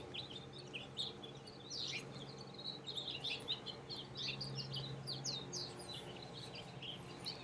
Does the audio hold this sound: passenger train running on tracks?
no